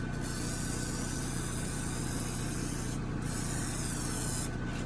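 WD-40 sprayed onto a Crossfire Pro camera, a loud continuous hissing spray with two brief breaks, close up, over a steady low machine hum.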